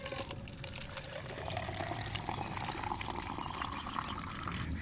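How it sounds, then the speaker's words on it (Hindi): Water pours into a plastic bottle being filled for growing money plant cuttings, a fairly soft steady gurgle whose tone rises gradually as the bottle fills. "तो इसको पानी से फिल कर लेते हैं पहले।"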